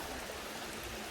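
Clear stream water flowing near a campsite, a steady rushing wash heard close and fairly faint, with no voices over it.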